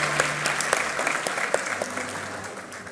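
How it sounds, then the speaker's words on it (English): Audience applause fills a medical school doctor inauguration ceremony, a steady, dense round of clapping from many hands that carries on throughout without pause. "Let's give him a round of applause."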